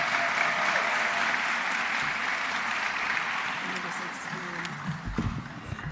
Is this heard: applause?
yes